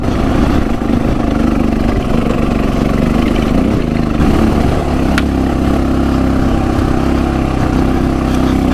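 A Honda XR650 full-size dirt motorcycle idles and runs steadily close by on a steep, loose-rock trail, its broadband engine drone continuous throughout with no talking.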